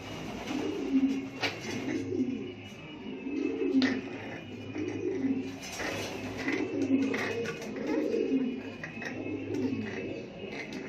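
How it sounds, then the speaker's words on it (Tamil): A sick blue pigeon with a harsh cough makes low, throaty bursts that repeat roughly every second and a half, close by and steady against faint background noise. "இந்த பேர்டுக்கு காஃப் அவ்வளோ டஃப்பாக இருக்குது."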